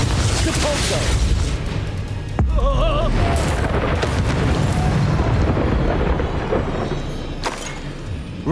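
Spell blasts from Bombarda and a repelling charm in Hogwarts Legacy, with loud booming bursts over dense combat noise and a voice speaking partway through.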